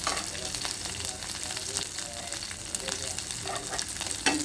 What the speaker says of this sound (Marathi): लसूण परतून झाल्यानंतर आपण त्यामध्ये हिरव्या मिरच्या टाकणार आहोत